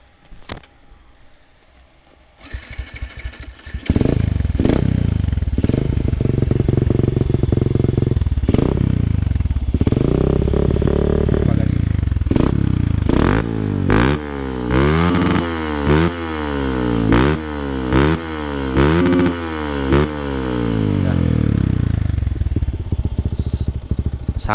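Yamaha Vixion with a modified supermoto exhaust and non-stock engine, starting up then idling loud and close before a series of sharp throttle revs rising and falling repeatedly.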